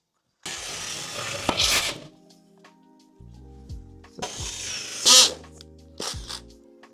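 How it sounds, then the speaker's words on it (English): Two bursts of a high-pitched power drill whining as it drills through an existing wall, each a couple of seconds long, separated by quieter clattering, with a brief third burst near the end. "so we can physically get the drilling to drill through this existing wall"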